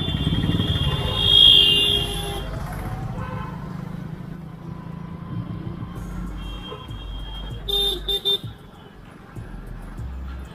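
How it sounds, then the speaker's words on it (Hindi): Busy market street traffic in Aurangabad, Bihar, heard from a motorbike: a constant engine rumble and road noise with scattered horn toots and beeps, a brief louder burst of honking near the end. "ये औरंगाबाद का मार्केट है।"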